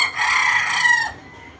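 A red-eyed gamefowl hen of bone crusher hatch lets out one loud, close, harsh crowing call lasting about a second, then falls silent.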